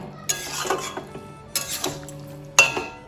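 A utensil scrapes and clinks against a pan while a Bengali curry of taro flower with prawns is stirred with half a cup of water, with three sharp metallic knocks over a soft background of cooking noise.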